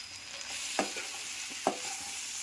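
Drumstick pods fry and sizzle softly in a pan while chili powder is stirred in for an egg and drumstick curry, with two distinct spoon scrapes against the pan over a constant low hiss.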